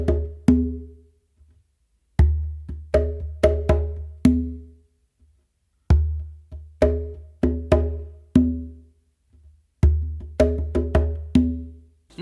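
A bomba/funk pattern is played on a bongo as clear, close hand strikes, with quick soft taps mixed among ringing open tones in four repeated phrases separated by short pauses.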